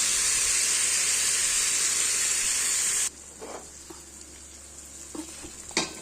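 A pinch of asafoetida hits hot oil for Bengali biulir dal, producing a loud, dense sizzling hiss for about three seconds that cuts off sharply, leaving quieter clinks and a bump.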